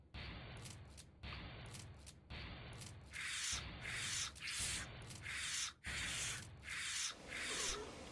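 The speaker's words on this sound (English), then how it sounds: "My shotgun even doing anything to that thing?" Repeated shotgun blasts ring out in Factorio while fighting biters, a steady series of loud, roughly evenly spaced booming shots over several seconds.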